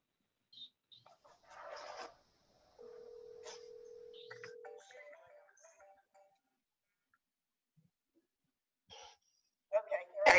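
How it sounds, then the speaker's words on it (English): A cell phone dials a call during a zoning board meeting, giving a steady held tone and brief beeps, with people talking around it and a burst of sound at the end. "Vicky, I'm gonna call you on my cell phone."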